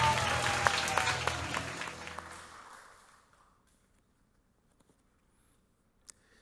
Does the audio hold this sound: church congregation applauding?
yes